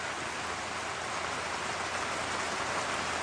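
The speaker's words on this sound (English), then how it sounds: "because it just keeps on raining." Rain pouring down steadily on a campsite, a continuous dense hiss of drops with no breaks and no voices, fairly close.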